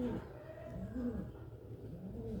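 Pigeons in a loft, including a named breeding pair, coo in low, rolling, repeated calls that are close and steady, with a human voice faintly mixed in.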